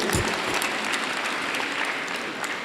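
Church members at a Catholic parish annual general meeting applaud with steady, dense clapping that continues unbroken and fairly loud throughout, with no talking.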